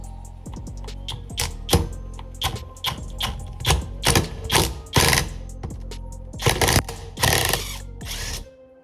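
A ratchet wrench loosens 17 mm bolts on an aluminium 86top engine, with repeated clicking ratchet bursts and metallic clatter close by throughout, with no talking.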